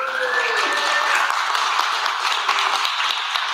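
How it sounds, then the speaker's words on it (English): A congregation at a church conference session gives a warm round of applause, with a steady wash of clapping sustained for a few seconds, briefly overlapping a faint tonal sound at the start. "Give her a round of applause."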